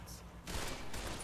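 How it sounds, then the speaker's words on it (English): Gunfire from a weapon in the Fallout New Vegas video game comes as a rapid burst of dense, crackling shots that swell briefly, fairly faint, with speech faintly in the background. "Firing weapon"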